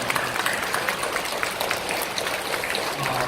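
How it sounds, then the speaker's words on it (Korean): Congregation clapping in a church, a dense, steady wash of many hands applauding together at moderate loudness, continuing evenly throughout without a break. "그냥 박수하시죠"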